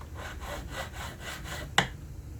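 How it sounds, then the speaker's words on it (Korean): Hand saw cutting slowly through wood for a square frame, even back-and-forth rasping strokes at close range, ending in one sharp knock. "그래도 잘 잘리네요. 천천히 자르고"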